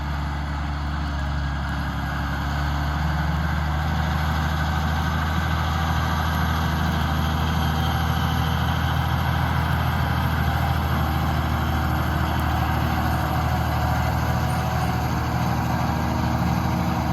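A Fendt 1167 Vario MT tractor's 673 hp engine idles steadily in a low, constant rumble that holds level throughout, heard from up in the cab with no talking.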